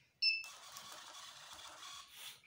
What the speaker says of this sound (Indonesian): Dia ngeprint Pertamax nomor 2 ya